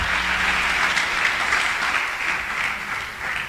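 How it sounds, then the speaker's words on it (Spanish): Church congregation applauding, a full, sustained roar of many hands clapping at once, loud and close, holding steady throughout. "Dele un aplauso al Señor Dios Todopoderoso."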